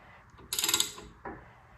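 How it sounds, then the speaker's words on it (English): A Ford 511 FE engine is turned over by hand, giving a short metallic ratcheting clatter followed by a second briefer click from the exhaust lifter and valvetrain, close and isolated. "I'm going to roll it over until the exhaust lifter starts up"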